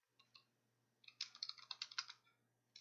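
Fingers tap a computer keyboard while entering login details into a label-printing remote access page, a few scattered keystrokes first, then a quick burst of rapid clicks, quiet and close with no talking.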